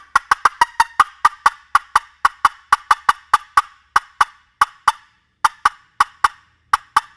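A wooden turkey box call worked by hand to imitate a hen's rapid cutting: a fast run of sharp, loud, clucking strikes, close by, speeding up and then breaking into shorter bursts with brief gaps, with no talking.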